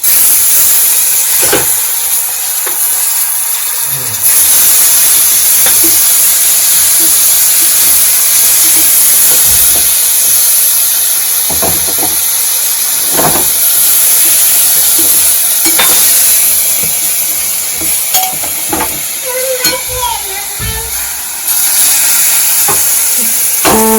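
Steady sizzling of boiled vegetables and leaves in a hot pan with intermittent scraping and stirring clatter, loud and close, running continuously without any talk.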